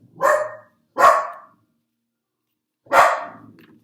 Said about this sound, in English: Those are my dogs confirming.